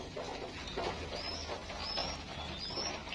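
Pigeons kept and raised in a loft coo softly in the background, faint low murmuring calls repeating over a quiet ambient hum.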